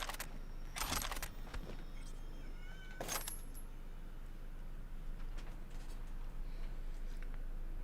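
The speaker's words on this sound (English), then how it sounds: "I hear a screaming cat." A cat yowls in a few short, sharp bursts, fairly near, separated by quiet gaps against a low steady hum, with a faint jingle of keys.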